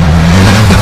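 A 2018 BMW S1000RR Motorsport motorcycle arrives in snowy conditions, its engine a loud, steady close drone filling the moment with no voices.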